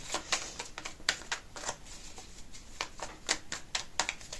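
Cards being drawn and shuffled for a fortune-telling reading, a run of crisp, rapid snapping and riffling flicks in irregular bursts, close and fairly quiet with no talk.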